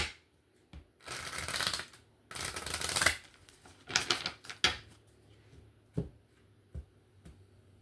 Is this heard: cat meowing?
no